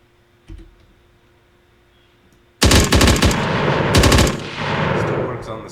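Rapid automatic weapon fire in an Unreal Engine third-person multiplayer game test erupts suddenly after a brief quiet click, a loud sustained burst with a short pause before firing resumes.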